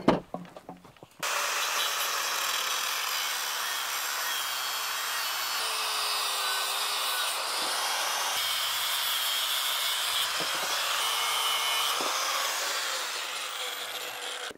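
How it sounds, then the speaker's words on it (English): A high, harsh grinding screech from a cutting wheel slicing off metal bolts, sustained for many seconds with slight changes in pitch as it cuts. "we'll just slice those off with the cutting wheel"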